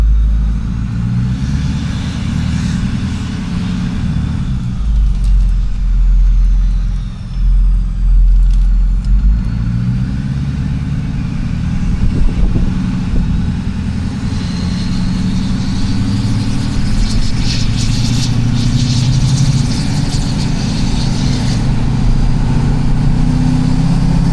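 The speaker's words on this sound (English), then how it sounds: "a little sound test of what the turbinated VGT sounds like" A 6.4 Powerstroke diesel pickup truck engine with a VGT turbo idles steadily with a deep, rumbling turbo drone, close and loud throughout, with a faint turbo whistle rising at times.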